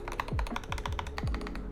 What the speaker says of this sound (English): Backspace and spacebar sound kind of gross,